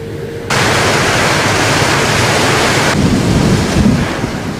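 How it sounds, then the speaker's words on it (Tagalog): Strong typhoon wind roars across Zambales in the Philippines, a loud, continuous rushing buffet that hits the microphone hard after a brief quieter start. "Ganito kalakas ang hanging dala ng bagyong Santi sa Zambales nitong Sabado ng madaling araw."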